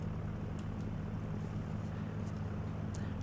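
A light aircraft engine drones steadily in the X-Plane 11 flight simulator, a constant low hum with no breaks and faint clicks on top.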